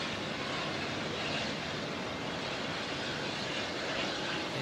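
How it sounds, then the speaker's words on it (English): A Singapore airliner departs Auckland Airport, its engines a steady, loud broadband roar that holds without letting up from start to finish, with no voices over it. "Singapore is going to head out before the Brisbane aircraft comes in."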